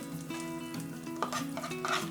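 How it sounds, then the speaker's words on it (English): Spices and fresh grated coconut sizzle in oil for a Mangalorean crab curry, a continuous soft frying hiss with a few stirring scrapes, while a steady tonal hum runs underneath. "I'm going to let this cook well in the oil so that the entire aroma of the spices mixes with the oil"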